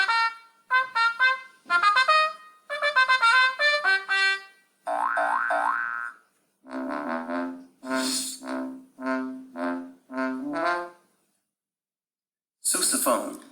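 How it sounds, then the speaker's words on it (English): A sousaphone plays a run of low, separate brass notes in short bursts, heard after a few higher tonal phrases; the notes come one after another with brief gaps, fairly loud and alone, with no talking over them. "Sousaphone. We don't have the sousaphone as part of our instruments that we need to know, but this is definitely too low"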